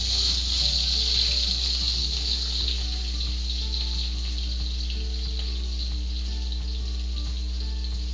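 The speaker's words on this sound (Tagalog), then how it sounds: "Then igisa natin ang bawang." Garlic sautéing in a pan for Filipino chicken menudo, a steady bright sizzle running continuously with faint clinks, no talking.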